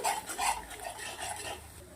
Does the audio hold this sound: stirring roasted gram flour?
yes